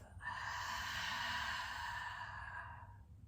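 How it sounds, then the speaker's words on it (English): A single deep breath during a yoga cool-down: a long, close breathy exhale that swells then fades over about three seconds, heard alone. "Taking a deep inhale through the nose and a big exhale out of the mouth."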